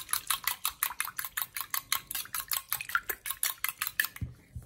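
Homemade slimming body lotion mixed briskly in a container, with a steady run of rapid clinking strokes, close and fairly loud, keeping an even rhythm for several seconds before stopping.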